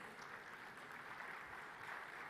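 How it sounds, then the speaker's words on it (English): Distant, steady applause from an audience at the National Space Day celebrations, a soft wash of many hands clapping continuously throughout. "A huge round of applause, ladies and gentlemen"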